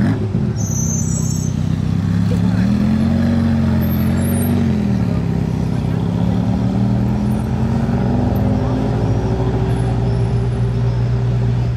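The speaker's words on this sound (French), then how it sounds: "juste quand je dis que la F40 ne roule plus, je l'entends démarrer derrière" A Ferrari F40 engine starting and idling on a Monaco street, a deep loud rumble with rising and falling revs, steady and close, with traffic noise around it.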